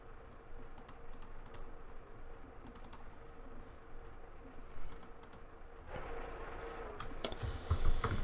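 Faint, scattered keystrokes on a computer keyboard under a steady background hiss, growing louder and busier near the end, with no voices.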